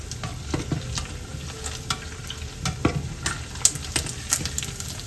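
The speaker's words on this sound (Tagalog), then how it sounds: "Kung magpiprito po medyo halo-haloin po ninyo para hindi po dumikit sa ilalim." Chicken wings fry in a pan and are stirred, a steady sizzle carrying scattered scraping and clinking stir strokes from close by, with no talking.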